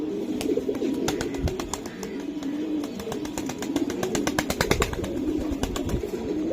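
Pigeons at a seller's stall coo steadily and close by, their low rolling calls overlapping in a dense chorus with sharp wing flaps and clicks scattered throughout.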